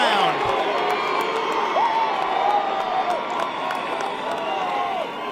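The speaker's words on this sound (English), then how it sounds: "Fires up the Tiger crowd here on the far side" Home crowd cheering and whooping after a Towson goal in a college lacrosse game against Johns Hopkins, a sustained loud roar with scattered shouts that fades slightly toward the end.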